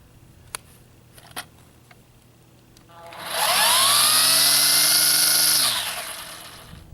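A Ryobi 18V brushless string trimmer spins up on its low speed setting, holding a steady high whine for a few seconds before winding down, with a couple of faint clicks beforehand.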